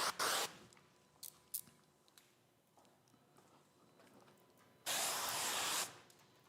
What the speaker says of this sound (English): I'm gonna spray this down and then we're gonna lay this back glass.